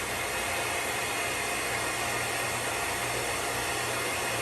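Hair dryer blowing hot air onto a beard, a steady broadband whoosh with a low motor hum running unbroken and close throughout.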